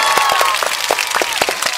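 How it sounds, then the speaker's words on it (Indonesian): A crowd claps steadily for the whole stretch, a dense, lively round of applause with individual hand claps standing out. "Tepuk tanganna."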